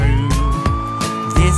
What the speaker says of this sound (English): Sirens on, move aside.